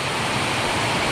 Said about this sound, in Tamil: அதே மாதிரி ரொம்ப ரொம்ப அதிகமாக இருக்குது மழை.